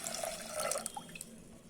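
A cup of milk poured into a pressure cooker holding washed rice and lentils makes a short, close, trickling splash, with a few soft drips as the stream tapers off.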